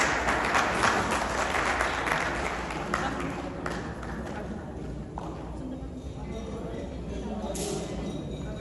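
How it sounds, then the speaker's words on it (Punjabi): An audience at a Bapu No. 1 title event in Brampton, Canada claps in a sustained, fairly loud burst that slowly thins out, with a voice talking over it. "ਇੱਕ ਵਾਰੀ ਜ਼ੋਰਦਾਰ ਤਾੜੀਆਂ ਨਾਲ ਬਾਪੂ ਨੰਬਰ 1 ਜਰਨੈਲ ਸਿੰਘ"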